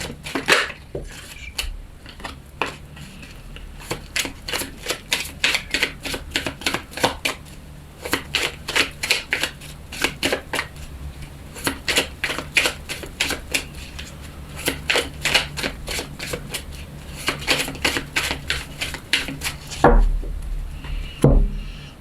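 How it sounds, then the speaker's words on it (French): Tarot cards are shuffled by hand in repeated quick bursts of crisp, close riffling flutter with short pauses between, ending with a louder thump as the deck is cut. "On va voir avec une coupe et avec 6 cartes le message qu'on a à nous donner pour aujourd'hui."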